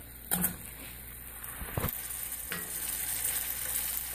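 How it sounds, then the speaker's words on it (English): Butter melting into a very hot, smoking pan just taken off the heat gives a broad steady sizzle, with a couple of sharp spits and clatters early on, continuous and fairly close, with no voices. "I'm going to add 1 of these tablespoons of butter."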